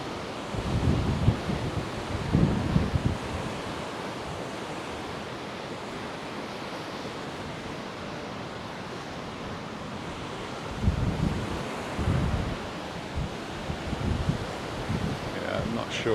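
Steady wind roars over a beach at Paguera, Mallorca, with waves rolling in as a constant broadband rush, swelling louder in bursts near the start and again toward the end.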